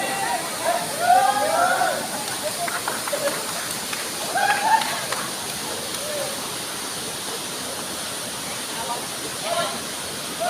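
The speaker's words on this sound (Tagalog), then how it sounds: "So, ayan po yung falls." Canding Falls waterfall pours in a steady broadband roar, with bathers nearby and people talking and calling out over the rushing water.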